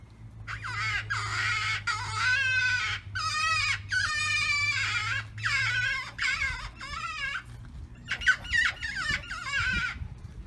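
A varmint predator call imitating prey in distress: repeated high, wavering squealing cries in bursts over a low steady hum; loud and close, pausing between calls.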